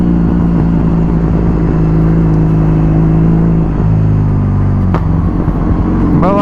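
A Kawasaki motorcycle engine hums on a test ride, a loud, steady low rumble with constant wind noise and a slight change in pitch near the end.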